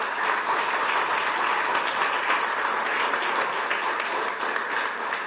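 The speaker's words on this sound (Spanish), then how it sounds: "Entonces vamos a dar un aplauso" An audience at a digital agenda brainstorming event in Panama applauds in a loud, steady burst of dense clapping, with no talk over it.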